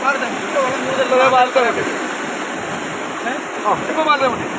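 Floodwater rushes with a constant broad roar, like a strong flowing current risen up to a bridge during heavy hill-country rain, while people talk over it.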